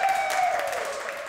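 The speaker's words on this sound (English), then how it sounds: "I think I hear applause." Studio audience applause on a talk show, a steady, dense patter of many hands clapping close by with a faint tone running beneath, lasting the whole moment.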